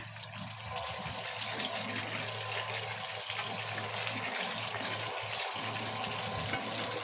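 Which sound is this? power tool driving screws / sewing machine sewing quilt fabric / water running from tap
water running from tap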